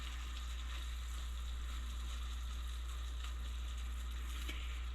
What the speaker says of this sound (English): I'm going to stir it up gently.